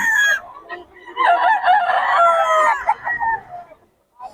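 A rooster crows loudly and close by, one long drawn-out call with a short cluck at the start, in a poultry sale yard in Bocaue. A faint voice is heard beneath it.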